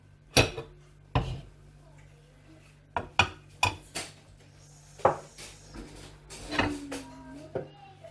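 Grated potato being mixed in a bowl for potato pancakes, heard as a series of sharp, close utensil knocks and clinks against the bowl at irregular intervals over a quiet background.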